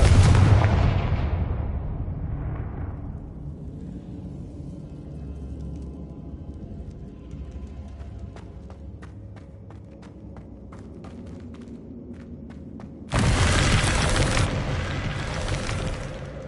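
A Confringo spell explosion in a Harry Potter video game, a loud booming blast that fades into a long rumbling tail, followed by a second sharp burst near the end, with no speech.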